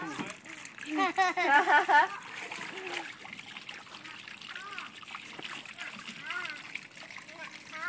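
Water splashing on a backyard waterslide, with wet splatters and trickling over the whole stretch while children's excited voices chatter and squeal, loudest near the start.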